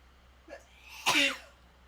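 A single sharp sneeze, preceded by a short inhaled catch, close and fairly loud against a quiet background.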